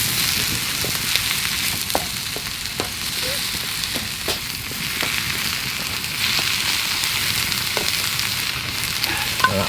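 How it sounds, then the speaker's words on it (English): Bacon lardons, mushrooms and tomatoes fry on a Firemaple camping stove, a steady close sizzle with scattered pops and crackles and a few stick-stirring taps throughout, no voices. "I've got bacon lardons in here, mushrooms and tomatoes. Get them cooking."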